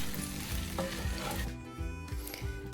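Spaghetti being stirred in a pan with garlic and olive oil, giving a soft steady sizzle with scraping and clinking of the utensil against the pan, close and fairly quiet, with no talking.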